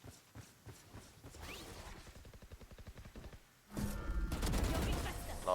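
Video game gunfire is heard while driving, first as rapid bursts of shots, then a louder stretch of dense firing and engine noise. Faint voices come and go underneath.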